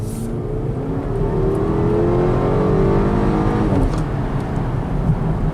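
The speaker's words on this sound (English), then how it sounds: "nice and quiet, nice and smooth, riding down the highway" A 2018 BMW X1 cruising on the highway, heard from inside as a steady low engine and road drone with smooth tyre noise, no voices.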